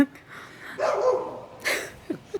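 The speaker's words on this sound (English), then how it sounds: "it's my neighbor's dog screaming at Zeus" A neighbor's dog barks and yelps at another dog in a few short, separate bursts at moderate distance, with quiet gaps between them.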